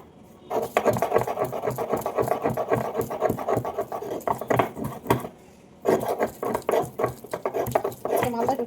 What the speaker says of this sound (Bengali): পটলগুলো এখন কেটে নেব।